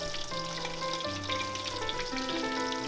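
Meatballs frying in a covered pan on the stove, a steady close sizzle with faint pops, no talking.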